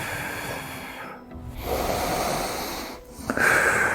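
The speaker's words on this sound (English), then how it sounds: "So deep breaths." Slow, deep breaths drawn in and let out during a lower-body calf stretch, heard close as soft airy hissing inhales and exhales with short gaps between them, no speech.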